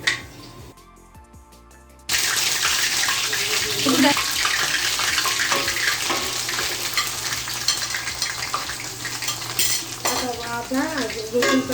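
Panch phoron spices frying in hot oil for an olive pickle, a brief quiet start followed by a steady close sizzle with stirring scrapes throughout.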